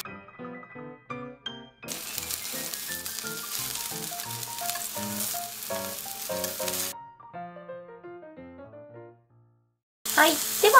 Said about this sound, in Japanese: ちくわを並べて返しながら表面に焼き目がつくまで焼きます